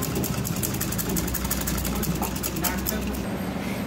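A sewing machine runs steadily while stitching a homemade cloth face mask, a continuous close mechanical whir with a fast even rhythm throughout.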